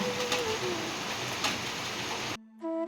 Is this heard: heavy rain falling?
yes